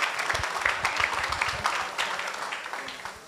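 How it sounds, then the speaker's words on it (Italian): Audience applause at the Premio Asimov 2019 award ceremony, a steady, dense wash of many hands clapping that stays fairly even and moderately soft throughout. "un applauso anche ai docenti che hanno accompagnato questi ragazzi"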